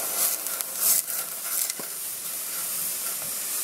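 Couscous stirred into a hot pan, giving a steady close hiss and sizzle with a few sharper spurts of steam early on, alone without talk.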